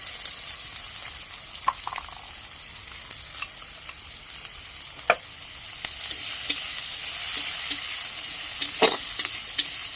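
Chopped onion and chillies frying in very hot oil for a restaurant-style chilli chicken, giving a steady close sizzle with scattered sharp pops and crackles and occasional stirring scrapes throughout, no voices.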